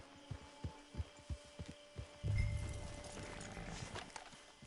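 Horse hooves in Red Dead Redemption 2 give a short run of rhythmic, evenly spaced thuds up close, then a louder rumbling rush of movement that carries on to the end.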